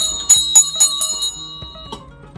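Bright, ringing bell tones strike about half a dozen times in quick succession, close and clear with a short metallic decay, then fade into softer low chimes. The sound serves as a notification bell effect.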